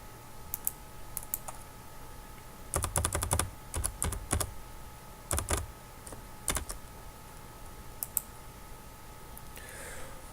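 A computer keyboard typing in a login username and password, with isolated taps followed by quick bursts of keystrokes and scattered clicks, close and clear with no voices.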